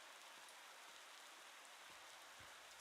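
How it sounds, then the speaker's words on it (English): Steady soft rain falls in the cozy video game Spirittea, a faint, even hiss with a few scattered drops and no voices. "it is raining."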